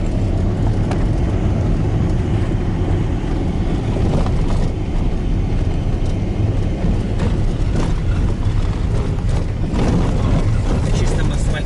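A car drives along a rough village road in Luchistoye, giving a continuous loud rumble of engine and road noise while people talk over it.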